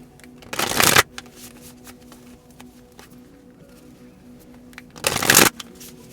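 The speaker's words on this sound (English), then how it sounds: "I'm afraid that you can't hear me when I'm shuffling" Tarot cards being shuffled, two brief bursts of rapid riffling about four seconds apart, close and crisp against a quiet room.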